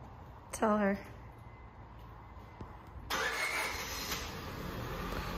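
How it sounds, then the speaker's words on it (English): A car engine is started quietly. A brief cranking whine comes first, then after a short pause it stutters and catches and settles into a steady running hum. "every time she starts the car, it's got a little kind of hiccup when it starts"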